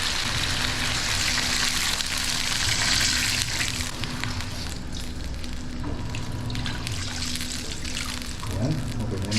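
Water pours steadily into a cooking pot to make a broth, a continuous splashing rush that softens and trickles toward the end, close by.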